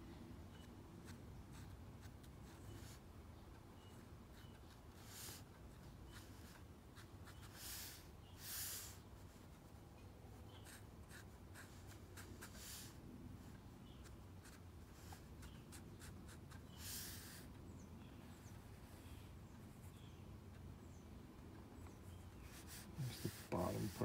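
A pencil makes a contour drawing from observation on paper, with soft scratchy strokes coming in short bursts and longer sweeps, close and quiet, separated by brief pauses.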